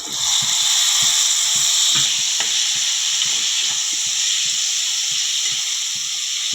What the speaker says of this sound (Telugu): దొండకాయలు అయితే వేస్తున్నాను నూనెలో.